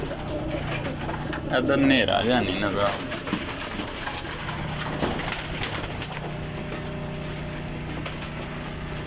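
Pigeons in a loft coo repeatedly and near, their cooing running beneath someone talking throughout.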